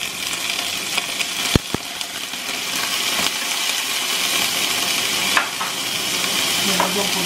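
Mushrooms stir-fry in a hot pan for pancit canton, giving a continuous close sizzle with the scrape and clink of a utensil stirring and a couple of sharp knocks, no voices.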